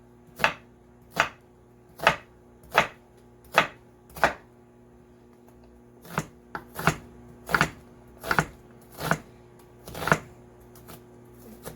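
A knife chops an onion on a cutting board with about sixteen crisp, evenly spaced strokes, a short pause partway, then faster chopping, close and clear over a faint background hum with no speech.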